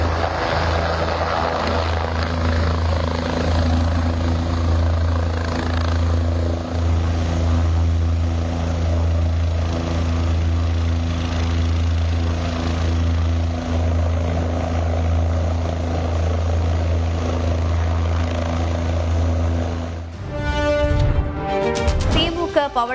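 Army helicopter hovering during a landslide rescue in Uttarakhand, a loud, steady rotor and engine drone that continues for about twenty seconds before cutting abruptly to other noise.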